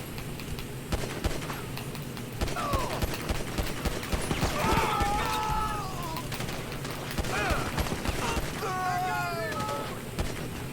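An exchange of gunfire, with repeated sharp shots and bursts scattered across the scene under loud shouting voices and wavering cries that resemble cat meows.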